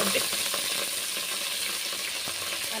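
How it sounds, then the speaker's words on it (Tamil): Mint and coriander sautéing in oil for biryani, a constant close sizzle and hiss with faint scraping stirs, no voices over it. "புதினா மல்லி போட்டு அதையும் நம்ம கிண்டிக்கிறோம். எண்ணெயில் நல்லா வதக்கிக்கிறோம்."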